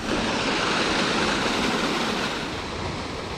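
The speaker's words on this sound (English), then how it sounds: "now it's flowing through that drainage pipe, as it should do." Water rushes steadily through a drainage pipe on a rural property, a loud, dense, continuous roar of flow heard up close with no talking, easing slightly toward the end.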